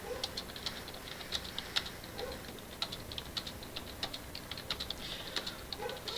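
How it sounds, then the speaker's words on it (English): Rapid clacking on a computer keyboard during a League of Legends match, crisp keystrokes tapping in uneven bursts, close and clear over a quiet background. "I'm typing what I'm saying because that's what our team needs to hear right now."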